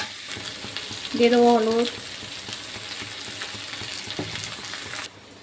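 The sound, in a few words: stirring ginger garlic paste frying with bitter gourd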